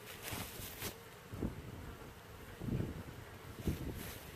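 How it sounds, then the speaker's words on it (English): Honey bees buzzing around beehives during a fall hive inspection in the autumn nectar flow, a faint hum with brief louder passes of bees flying close, mixed with light wind noise and no talk. "Time to inspect some beehives."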